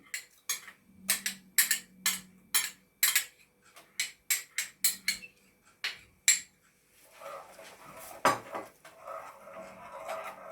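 A spoon knocks and clinks rapidly against a pot while stirring sugar and gelatin for a cherry gelatin mousse, then gives way to a softer, steady swishing scrape, close and with no talk.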